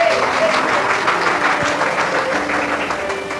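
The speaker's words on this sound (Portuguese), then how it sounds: "se coloca de pé e glorifica Jesus com as suas palmas." Loud, dense clapping from a church congregation standing to applaud during a sermon, continuous and close, with faint voices mixed in.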